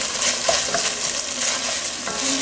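A garlic mix stirred in a hot pan for an Italian-style roast, giving a steady, close scraping and bubbling sizzle that runs evenly throughout with no talk.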